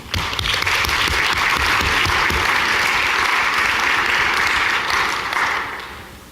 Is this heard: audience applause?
yes